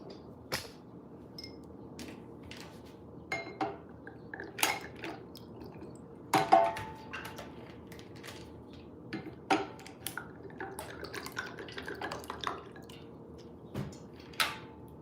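Someone getting a glass of water at home: scattered clinks of glass and dishes, a few drips and light knocks, soft and close, with quiet pauses between the sounds and no talking.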